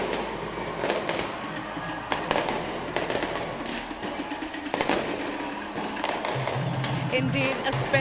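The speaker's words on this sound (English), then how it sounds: "A spectacular fireworks display to win an incredible opening ceremony." Fireworks burst over the Pacific Games 2023 opening ceremony in the Solomon Islands, a continuous crackle of pops and booms heard from some distance with no voices.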